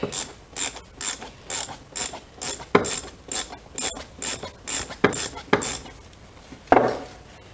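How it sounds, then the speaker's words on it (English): A half-inch ratchet wrench loosens the bowl nut on a Briggs & Stratton fixed carburetor, clicking in repeated close bursts of pawl ratcheting with short pauses, no speech. "So anyways, you got this bowl here on the bottom. I already started taking it off. This is a half inch."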